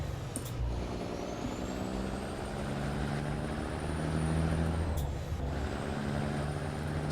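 Heavy truck engine with a sound mod in a trucking game on the Dalton Highway, rumbling steadily and loudly throughout, with a brief hiss partway through and a whine rising in the background.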